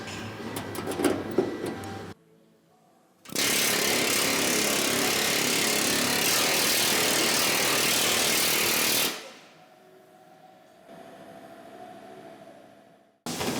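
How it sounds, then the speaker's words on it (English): Planishing hammer smoothing a car body panel: a loud, dense, continuous mechanical chatter of rapid blows runs for several seconds, with softer tool noise before and a quieter hum after it stops. "I'm gonna go to the planishing hammer and try to smooth it all out."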